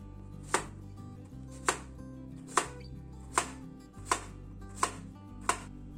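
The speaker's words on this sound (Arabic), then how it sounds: "غادي نقطعوا القرعه دوائر رقيقه" A knife slices squash into thin rounds on a cutting board, seven crisp, evenly spaced chops close by, each a sharp tap over quiet kitchen background.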